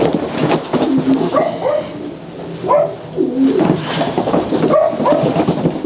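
A racing pigeon coos repeatedly at close range, soft throaty rolling calls rising and falling in short phrases over a quiet loft background.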